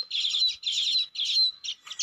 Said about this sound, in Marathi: चिमण्यांचा चिवचिवाट ऐकायला येतो बोराच्या झाडामुळे।